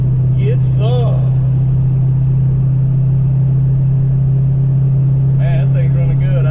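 A 1990 GT with a Vortech supercharger pulls hard in fourth gear, a loud, steady, droning engine tone held throughout, with a voice talking over it at the start and again at the end.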